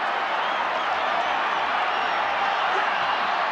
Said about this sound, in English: The crowd urges them on.